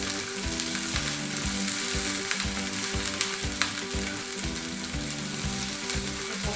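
Chopped onion and capsicum frying in a pan, a loud continuous sizzle with regular stirring scrapes of a spatula roughly every half second, close up and without talking.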